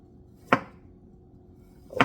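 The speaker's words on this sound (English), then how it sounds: "so I'm going to cut a piece off of my ginger" Two sharp knife chops on a cutting board as a piece is cut off a ginger root, one clean thud near the middle and another starting at the very end, with quiet room tone between.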